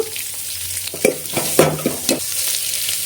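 Onions frying in a pan for sambar, a steady sizzle under a few sharp scraping stirs of a spoon against the metal, with no talking.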